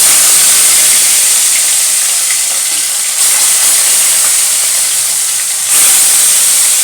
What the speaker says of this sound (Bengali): তেলটা গরম হয়ে গেছে মাছটা আমি দিয়ে দিলাম